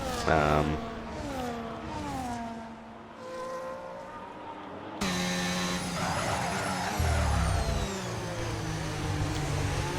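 Racing cars in a fully wet Belgian race at Spa in a racing video game, tier 3 drivers. Their engine notes whine and climb through the gears in steady overlapping tones, with a sharp cut midway into a louder, busier engine roar.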